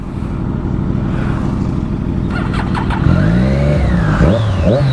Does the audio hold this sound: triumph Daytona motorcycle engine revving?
yes